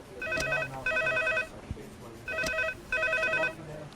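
An old-style telephone bell rings in two double bursts, electronic trilling rings with short pauses between them, loud and close, with faint background noise.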